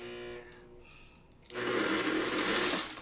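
Sewing machine idling with a tonal hum, then, after a brief lull, breaking into a loud, fast, steady run of stitching close by.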